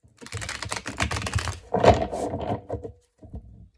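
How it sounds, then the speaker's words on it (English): Cards riffle and flutter in quick rattling bursts, close up, with a brief pause and a final soft tap at the end. "we'll do one last shuffle."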